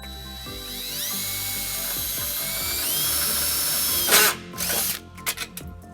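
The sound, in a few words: ratchet with 3/8 socket tightening a nut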